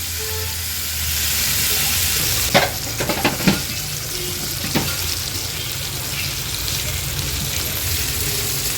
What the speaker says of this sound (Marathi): आणखीन चमचाभर तेल मी ॲड करते म्हणजे मागची बाजू पण त्याची व्यवस्थित फ्राय होईल